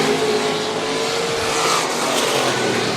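Race cars circle a short track in a warm-up session before a Carolina Sprint Tour heat race, engines droning loud and steady throughout with no voices over them.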